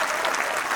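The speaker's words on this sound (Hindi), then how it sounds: "एक बार जोरदार तालियां बजाइए।" An audience at a Hindi comic poetry show bursts into applause, a brief, dense wash of many clapping hands heard on its own.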